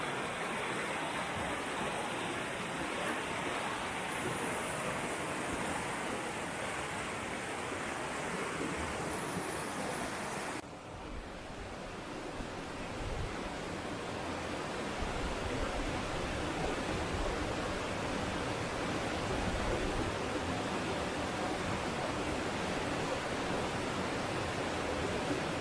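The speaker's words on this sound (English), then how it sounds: "Look at the speed of this water." Fast, forceful river water rushes steadily near a footbridge on a November walk, a loud broadband roar that continues unbroken throughout with no talking.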